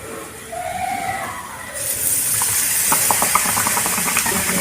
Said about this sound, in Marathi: आता हे पॅटीस आम्ही तयार केलेत ना, ते या बॅटर मध्ये असं मिक्स करून आता तेलामध्ये सोडणार आहोत.